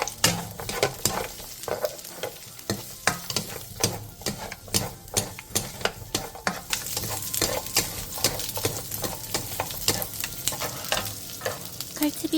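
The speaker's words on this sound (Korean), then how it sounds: "팬에 기름을 두른 뒤 비엔나 소세지와 마늘을 넣고 센 불에서 볶아주세요." Vienna sausages and garlic stir-fry in oil over high heat, with a steady sizzle broken by rhythmic clacks and scrapes of a utensil against the pan, close and continuous.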